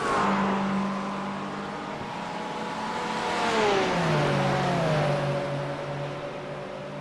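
Porsche GT3 race cars lap a virtual Daytona road course in a racing video game, their engines whining loudly and steadily, with pitch sliding up and down through gear changes as the cars pass in a sustained, fairly close roar.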